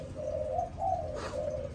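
Malaysian spotted doves at a breeding farm give a steady run of low, mellow coos, several rounded notes close by, with a brief rustle partway through and no talking.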